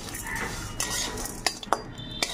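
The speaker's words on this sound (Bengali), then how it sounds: "ধনে, জিরে, কয়েকটা লবঙ্গ, পাঁচফোড়ন, কয়েকটা গোলমরিচ আর জোয়ান। এটাও একসাথে দিয়ে ভেজে নেব।" Whole spices (coriander, cumin, cloves, peppercorns, panch phoron and ajwain) dry-roast in a pan, heard as a soft rustle with a few sharp metallic clinks of a spoon against the pan, quiet and close.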